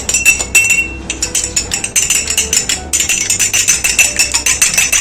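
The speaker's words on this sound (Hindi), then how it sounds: "इसको हम अंडे को अच्छे से फेंट लेंगे।" A whole egg is beaten in a bowl while making milk-powder rasmalai, giving quick, steady, rhythmic clinks of utensil against bowl, close and continuous with no talking.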